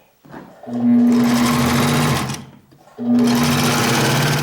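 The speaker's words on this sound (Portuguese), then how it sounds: "Cortei as 2 alças, vou dobrá-las ao meio e vou costurar." A sewing machine stitches folded fabric straps for a child's overalls, two sustained bursts of fast, close mechanical whirring separated by a brief pause.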